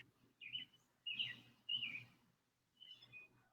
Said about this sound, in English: they have some really nice sounding birds in their yard